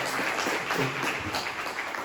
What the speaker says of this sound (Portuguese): Uma salva de palmas para essa turma.